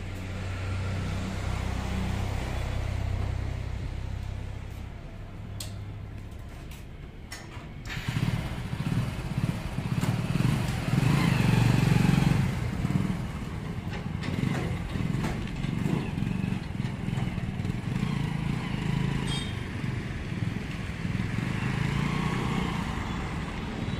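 A motorcycle towing a trailer rumbles steadily, growing noticeably louder and rougher partway through as it pulls away under load.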